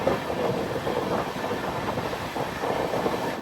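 Ernakulam–Barauni Raptisagar Express, a long-distance train bound from Kerala to Bihar, rolling into Walayar railway station, a steady loud rumble of wheels and carriages sustained throughout with faint rhythmic clatter.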